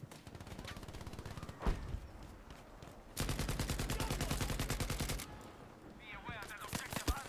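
Rapid automatic gunfire in Battlefield V crackles through a pistol-and-rifle firefight around a contested objective, with dense sustained bursts in the middle stretch, scattered single shots before and after, and a player's voice briefly audible.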